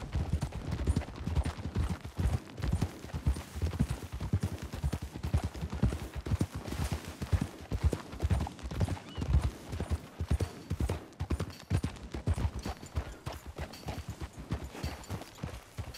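Steady video-game horse hoofbeats clip-clop at a walking pace throughout, close and fairly loud, with a faint background hum and no talking, from Red Dead Redemption 2.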